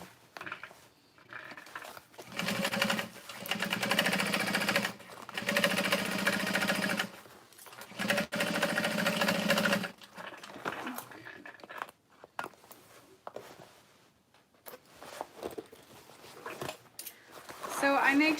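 A sewing machine runs in bursts while stitching handles onto a fabric tote bag, its motor whirring in several stop-start runs with pauses between, some with light sounds or talk in the gaps.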